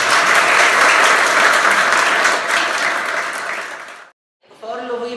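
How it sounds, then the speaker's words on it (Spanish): Loud, dense applause from a lecture audience welcoming professor Carlos Pérez Soto, sustained for about four seconds before cutting off briefly and resuming with a voice over it. "los voy a invitar a que lo reciban con un muy fuerte aplauso al profesor Carlos Pérez Soto."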